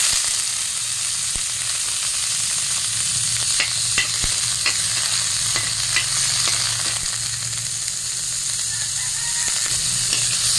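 Loud, continuous sizzling and crackling of chicken skin frying in a pan without added oil, with occasional sharp pops and spatters.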